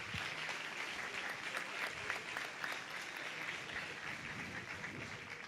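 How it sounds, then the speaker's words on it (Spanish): An audience at an economics conference gives a round of applause for a speaker, sustained even clapping throughout, moderately distant in a hall. "Le damos un aplauso a Facundo."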